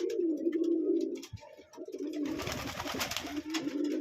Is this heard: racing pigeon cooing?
yes